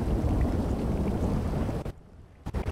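Stormy weather during a boat ride in GTA Online: dense, steady roar of rain and wind with low rumbling, loud and continuous, briefly cutting out near the end before resuming.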